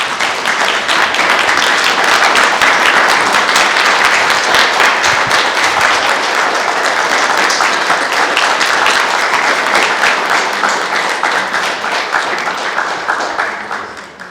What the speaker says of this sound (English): Please stand and give yourselves a wonderful, and the people here, a round of applause.